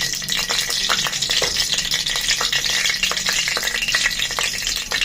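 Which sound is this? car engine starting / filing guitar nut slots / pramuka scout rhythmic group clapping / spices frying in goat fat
spices frying in goat fat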